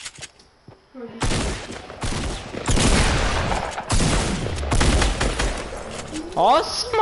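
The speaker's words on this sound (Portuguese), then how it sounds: "Nossa, mano, quantos tiros eu vou ter que dar nesse maluco?" Rapid video game gunfire in a shooter match, dense bursts of shots and booms rattling almost continuously, loud and close, with a player's voice speaking between volleys.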